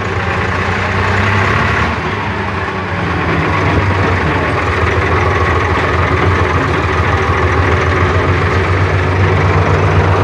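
A David Brown 880 tractor with a 12-speed reduction gearbox idles close by, a loud, steady diesel rumble that continues evenly with no speech.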